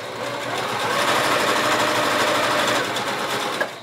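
Sewing machine stitching a fabric mask, a continuous close mechanical whir running steadily for a few seconds without speech.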